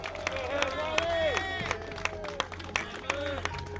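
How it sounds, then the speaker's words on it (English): An outdoor crowd at a street-naming ceremony claps in scattered, uneven bursts, with people talking and calling out over the applause. "please give a round of applause and adulation to our friend Wali Muhammad."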